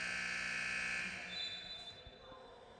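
Basketball game buzzer, heard after a foul and timeout: a sustained electronic tone sounds for about a second, then fades under commentary and crowd noise.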